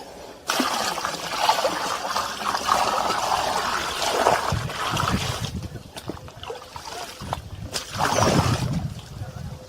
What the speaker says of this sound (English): And pour the Algaecide around the perimeter of the walls.